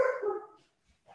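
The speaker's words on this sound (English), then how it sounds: "Sorry for the barking." A dog gives a single short bark, close and fairly loud, followed by silence and a faint trailing sound.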